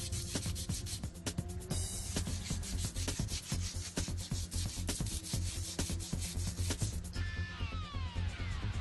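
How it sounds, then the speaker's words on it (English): Emery cloth, 220 grit or finer, rubbed by hand over surface corrosion on a metal trailer spindle, giving a steady close-up scraping and sanding rasp in repeated strokes with no voices. "Clean all surface corrosion from the spindle using emery cloth or Scotch-Brite, 220 grit or finer."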